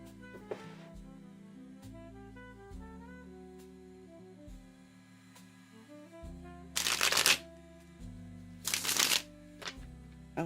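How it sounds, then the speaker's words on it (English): Playing cards are shuffled in two loud riffling bursts near the end, set over soft background music with no talking. "I like shuffling these cards."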